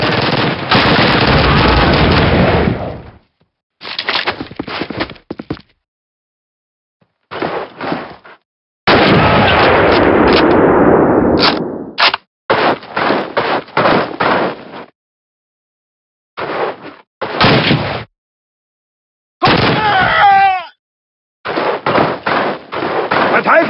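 Call of Duty battle sounds: heavy bursts of machine-gun fire and single gunshots, with a grenade blast near the middle, come in loud, close clusters split by short silent gaps, with shouted voices at times.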